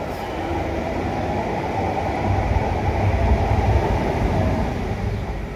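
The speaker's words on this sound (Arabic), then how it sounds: "المترو دايز الاصدقاء." A metro train passes with a loud, continuous rumble that swells toward the middle and eases slightly at the end, with no voices over it.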